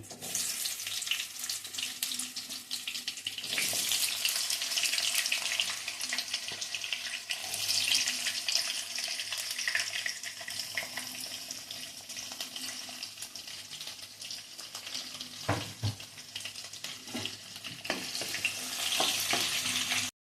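Sliced onions dropped into hot oil for a country chicken curry fry with a steady broadband sizzle throughout, punctuated by stirring scrapes and a sharper crackle burst near the middle, no talking.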